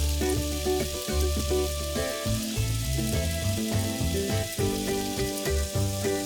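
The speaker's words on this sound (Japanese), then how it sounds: "多めの油で揚げ焼き。" Food shallow-fries in plenty of oil in a very small frying pan, a steady bright sizzle that runs under prominent background music throughout.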